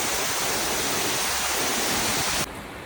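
A steady, loud rush of falling water from Namaste Falls in Dhankuta, Nepal, fills the air without pause, then drops slightly in level near the end.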